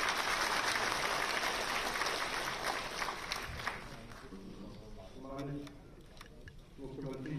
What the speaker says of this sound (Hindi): तालियों के माध्यम से स्वागत।